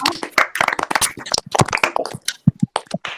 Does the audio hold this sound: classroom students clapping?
yes